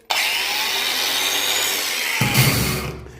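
A brushless angle grinder runs steadily at high speed with a bright, even whine, then its pitch and load shift near the end as it winds down; loud and close, with no talking.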